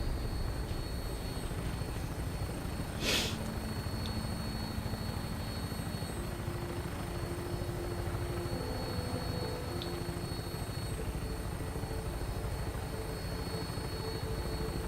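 A vertibird aircraft in Fallout 4 lifts off, its rotor and engine drone holding steady and loud for the whole stretch, with one sharp clank early on.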